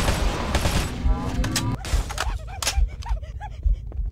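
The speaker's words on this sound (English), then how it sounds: "It's just a needler." A needler weapon in the Halo video game fires a rapid burst of sharp, crackling shots, followed by scattered pops and impacts, loud and close, with a player's voice briefly mixed in.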